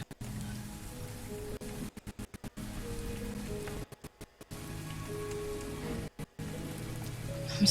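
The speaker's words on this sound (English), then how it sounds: "watches the rain hit the ground." Steady rain patters on a hard surface, a dense continuous hiss broken by several brief drops to near silence.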